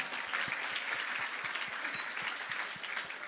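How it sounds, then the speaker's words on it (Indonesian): Audience applause at a school Maulid Nabi celebration in an Indonesian senior high school, a fairly distant wash of many hands clapping with a steady rhythmic thump underneath, lasting throughout without talk. "tepuk tangannya mana?"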